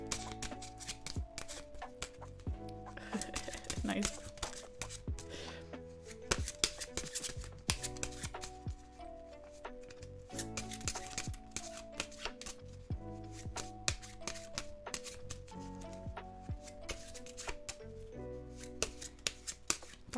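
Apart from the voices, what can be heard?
playing cards being shuffled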